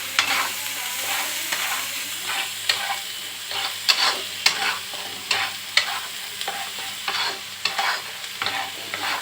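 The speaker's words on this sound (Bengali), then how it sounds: "এবার এটাকে মশলাটাকে ভালো করে মিক্স করে নিতে হবে" Masala with cumin, a little sugar and oil is stirred in a pan, a spoon scraping in a steady uneven rhythm over a soft continuous sizzle, close and moderately loud with no talking.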